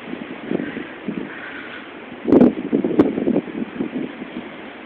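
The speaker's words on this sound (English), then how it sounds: "we love windy days here on the mountain." Wind gusts through trees on a mountainside, a rushing, rustling roar that rises and falls in waves, strongest in a burst just past the midpoint, with no talk.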